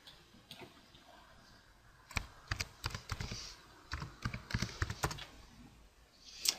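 Quick, light key clicks on a computer keyboard as a short title is typed, a brief burst of irregular taps after a quiet start, close and alone.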